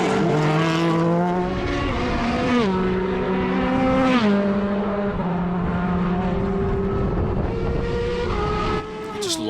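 Race cars, including a 3-litre car, circuit the track at a Kirkistown race meeting, engines howling loudly as they rise and drop through gear changes, several overlapping passes with no commentary over them.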